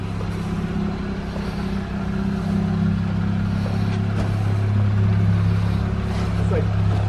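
A Jeep Wrangler on 38-inch tires idles and creeps down into a reverse RTI ramp, its engine a steady low rumble that rises slightly as it rolls forward, with people talking nearby.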